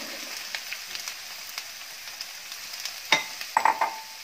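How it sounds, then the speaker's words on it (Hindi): Onions and mushrooms stir-fry in a pan over medium gas, giving a steady soft sizzle with light scraping and a few louder clinks of stirring near the end, no voices. "अब इसमें मशरूम भी डाल देंगे।"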